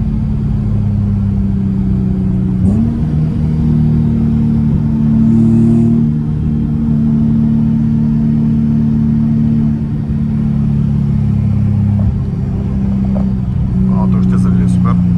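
A Nissan 350Z engine revs hard while driving on a winding road, a loud steady droning rumble that climbs in pitch as it accelerates, with a voice talking over it.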